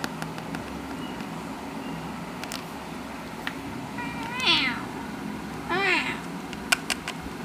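A cat meows twice in a small indoor room, each call rising and falling, with a few soft clicks and low household hum around it and no one talking.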